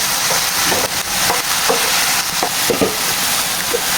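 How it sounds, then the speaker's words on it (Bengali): Vegetable noodles being stirred in a frying pan, a steady close sizzle with scattered scraping and clinking utensil strokes throughout. "এবার একটু ভালো করে নেড়ে দেবো"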